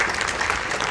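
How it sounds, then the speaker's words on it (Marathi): Applause at a newspaper's first-anniversary function makes a brief, steady patter of many hands clapping for just under a second. "आपण जोरदार टाळ्या देऊ."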